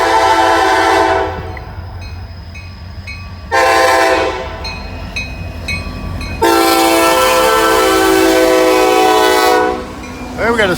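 A freight train with a yard slug locomotive passes close by, sounding its horn in three loud sustained blasts, the longest last, over a steady rumble of rolling wagons.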